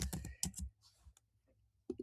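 Quick bursts of clicking keystrokes on a computer keyboard, a few rapid clusters of taps separated by short pauses, close and fairly quiet with no talking.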